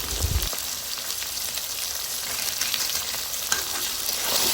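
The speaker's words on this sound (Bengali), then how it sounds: "মশলা দিয়ে নেড়ে চেড়ে আবার কিছুক্ষণ কষিয়ে নেব।" Spiced biryani masala from a packet fries and is stirred in a pan for a beef biryani, a steady close-up sizzle with scraping stir strokes running throughout and no voices.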